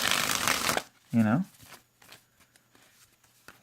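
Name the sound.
shuffling a deck of playing cards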